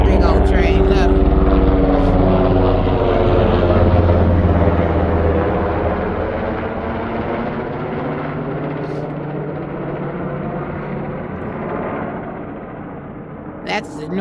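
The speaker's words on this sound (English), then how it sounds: "Helicopters and stuff are flying all around this area today." Helicopters flying overhead above a garden, a loud steady rotor drone that slowly fades and passes over about fourteen seconds, with a person talking through it.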